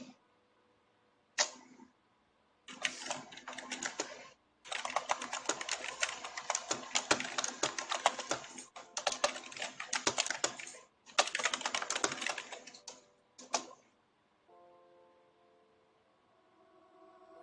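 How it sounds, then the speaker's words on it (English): Rapid clicking of a computer keyboard being typed on in bursts, close and crisp, with brief pauses between runs and a quiet hum at the end. "let's try typing this out."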